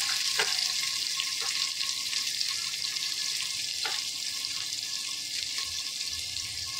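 Garlic cloves, green chillies and curry leaves frying in hot oil in a pan give a steady, close hiss with a few sharp pops and small clinks throughout.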